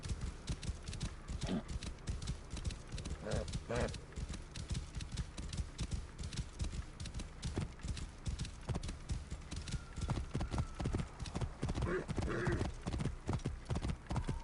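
Horse hooves gallop in a steady, rapid clip-clop rhythm while riding through the Assassin's Creed Origins game world, a continuous run of close hoofbeats with an occasional whinny and game ambience around them.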